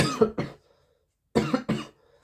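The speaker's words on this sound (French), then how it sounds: "puis désolé si j'ai toussé" Two short bursts of coughing, each a pair of harsh coughs, separated by a brief silence, close and fairly loud.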